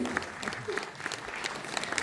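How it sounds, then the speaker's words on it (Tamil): Audience clapping after a children's dance performance at a cultural stage show, a dense steady round of applause from a crowd, fairly close, with a voice faintly under it. "Großen Applaus nochmal."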